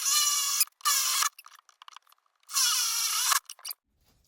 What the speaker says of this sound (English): So let me get those drilled quick.